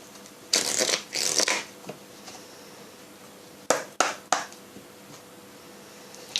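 A deck of moon oracle cards is shuffled close by in quick riffling bursts, two longer ones then several short sharp snaps, with quiet gaps between them.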